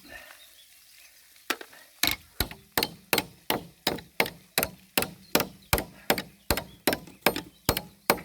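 Repeated metal-on-metal hammer strikes knocking nails out of reused galvanised tin joist hangers, about fifteen sharp, evenly spaced clanks that start after a quiet opening and ring close and loud.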